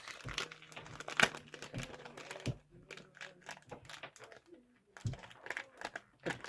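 A stuck sticker is peeled off during a haul of craft-workshop supplies, making close crinkly, scratchy tearing sounds in short bursts, with quiet handling noises and brief pauses between pulls.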